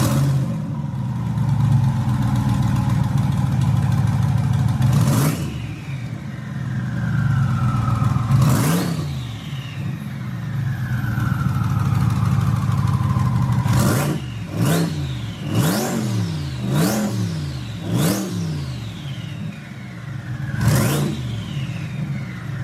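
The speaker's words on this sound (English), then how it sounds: "Hennessey have twin turbo the C8, and it sounds absolutely bonkers. The whine off these turbos is insane." A Hennessey twin-turbo Corvette C8 revs hard over and over, the loud engine rising in sharp bursts and then falling away with a long sweeping turbo whine after each one, the blips growing quicker toward the end.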